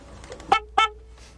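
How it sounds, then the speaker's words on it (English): A loud boat horn on a bass fishing boat out on Lake Eufaula during a tournament, sounding two short honks about a quarter second apart, with a faint steady tone lingering between and after the blasts. "That sucker's loud, ain't it? It is a loud horn."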